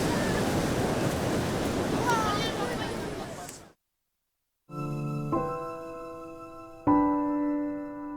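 Atlantic surf breaks on the eroding shore of the Langue de Barbarie at Saint-Louis, Senegal, as a loud, steady wash of roaring waves and wind that cuts off after a few seconds, followed by musical tones.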